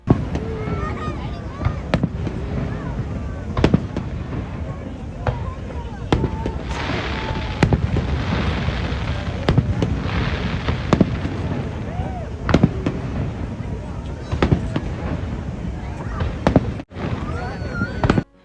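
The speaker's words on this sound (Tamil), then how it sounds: "ஃபயர் ஒர்க் ஸ்டார்ட் ஆயிடுச்சுங்க கரெக்டாக 10 o'clock." Fireworks burst over Niagara Falls at night, a steady run of sharp booms and crackling pops at varied distance, with people talking nearby throughout.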